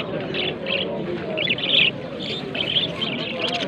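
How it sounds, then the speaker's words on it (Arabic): Caged birds chirp and tweet in repeated bright bursts at a bird market in Setif, Algeria, over a steady background murmur of the market. "خونا اسحاق عنده طيور البادا للبيع بسوق سطيف."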